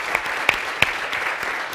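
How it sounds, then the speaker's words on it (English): A lecture audience claps in a steady, even round of applause, with a few sharper individual claps standing out near the start. "So would you please stand up and get an applause for..."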